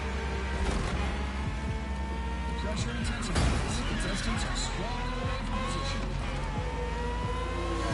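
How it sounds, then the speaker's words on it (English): A V12 car engine in The Crew Motorfest racing game drones steadily with revving swells throughout, while someone talks over it. "It really sounds like a V12."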